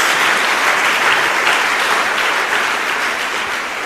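Loud, dense applause fills a church as the congregation claps for the Lord, a steady wash of hand claps that fades only slightly toward the end.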